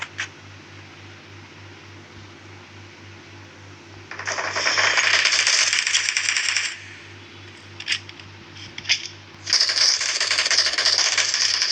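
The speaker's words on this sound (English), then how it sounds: "Reloading!" A video game weapon is reloaded in two long bursts of metallic clattering and rattling with a few sharp clicks between them, under a low steady hum.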